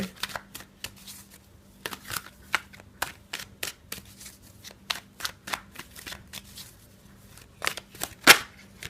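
Tarot cards shuffled by hand in a steady run of crisp riffling flicks and slaps, close and fairly quiet, with one sharper snap near the end and no talking.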